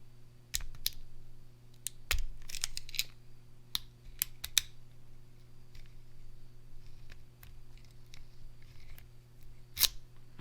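A key turns in a bolt padlock held close, giving a scattering of faint, small metallic clicks and ticks at irregular intervals over a steady low background hum.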